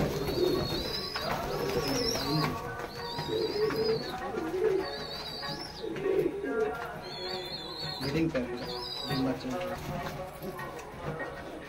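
A pair of tippler pigeons offered for sale coo repeatedly in low, rolling bursts close by, while someone talks over them.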